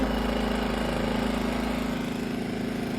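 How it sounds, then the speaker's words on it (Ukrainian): Petrol or diesel generator running at a steady idle, a continuous low engine hum with even vibration throughout, close and fairly quiet, with no talking over it. "Ну і заглушить генератор."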